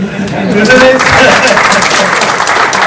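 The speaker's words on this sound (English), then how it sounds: "is there a round of applause?" A crowd at a Durban event breaks into a round of applause, a dense, steady wash of many hands clapping at close range for about three seconds.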